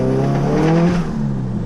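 A tuned car engine with a busted clutch, not yet fully tuned, revs loudly and close up, holding a strong tone that swells briefly and then drops back as it is sustained.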